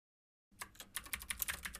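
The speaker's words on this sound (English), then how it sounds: "Hold Shift and use your arrow keys." Shift and arrow keys pressed on a computer keyboard: after a moment of silence, a rapid flurry of soft, close key clicks and taps, quiet and steady with no voices.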